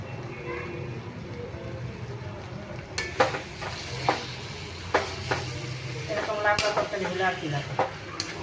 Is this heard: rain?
no